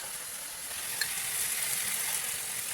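Soy sauce hits sizzling chilli potatoes in a hot pan, producing a steady, bright frying hiss with faint crackles and no talking.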